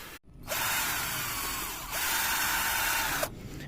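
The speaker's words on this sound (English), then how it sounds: "you need to drill these holes." Power drill boring holes through a rubber circle garden border, two sustained loud whirring bursts back to back with a brief pause between, close up and alone.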